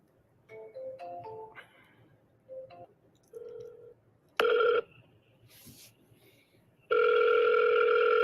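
Outgoing telephone call with dialing tones, short ringback bursts and a long steady tone, heard alone and fairly clear with brief faint noises between.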